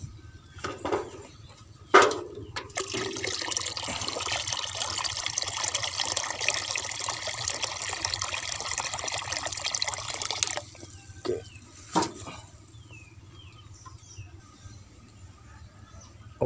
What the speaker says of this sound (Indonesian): ini akan saya tambahi air sahabat ya karena airnya ini habis akan saya tambahi lagi